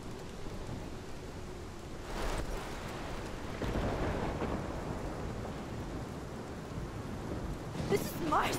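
Steady heavy rain with rolling rumbles of thunder in the video game Life Is Strange, a broad wash of downpour that swells midway, with a brief sharp crack near the end.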